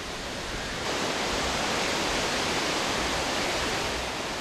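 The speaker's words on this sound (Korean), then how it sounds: "시원하게 쏟아지는 폭포의 물줄기" A waterfall at Plitvice Lakes in Croatia pours down with a loud, steady, broadband roar that swells within the first second and then holds unbroken, with no voices.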